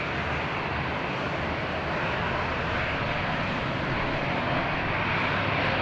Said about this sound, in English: No problem for EasyJet. Nicely on the ground.